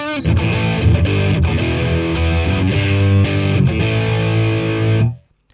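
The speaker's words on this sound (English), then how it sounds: "this is the sound of a distortion pedal running through the front of an amp rather than an overdrive pedal." Electric guitar running through a Boss DS-1-style distortion pedal into the front of a Boss Katana 100 combo amp, with a loud, sustained saturated riff of chugging chords that rings continuously before cutting off sharply at the end.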